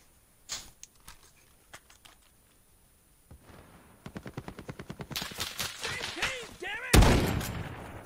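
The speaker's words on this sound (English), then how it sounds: "why am I hearing gunshots by me?" Video game gunfire in Call of Duty: rapid bursts crackle through the second half, growing louder and denser toward the end, with scattered sharp shots earlier.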